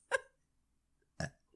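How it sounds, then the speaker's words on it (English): A woman gives two short, close burps about a second apart, with near silence between them. "I can burp."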